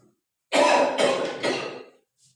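A man teaching a boat-and-stream maths lesson coughs and clears his throat in one rough burst of about one and a half seconds, close and fairly loud, alone with no talk.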